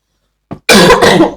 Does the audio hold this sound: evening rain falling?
no